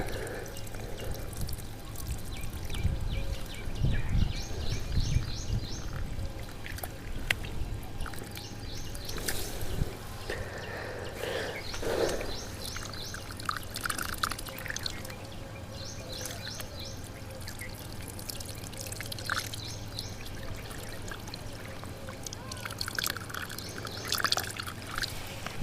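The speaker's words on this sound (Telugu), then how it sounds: "బోర్లోంచి వస్తాయి వాటర్" Water pours and trickles steadily from a bore well pipe at low volume, with birds chirping faintly in the background.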